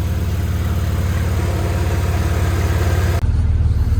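A car engine idles steadily up close with a low even throb, with a brief dip near the end before it settles again, no voices.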